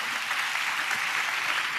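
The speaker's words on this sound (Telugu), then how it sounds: "చప్పట్లు కొడుతూ స్తోత్రాలు చెప్దాం" Audience at a church worship service clapping together in praise, a steady dense wash of hands that holds at an even, moderate level throughout with no talk over it.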